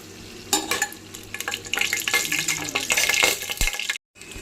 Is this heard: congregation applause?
no